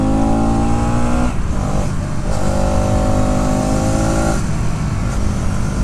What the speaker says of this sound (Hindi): सो मैं ये डाउन शिफ्टिंग कर रहा हूँ एंड ये टर्न के बाद भी मैं रेव करके डाउन शिफ्ट करता हूँ।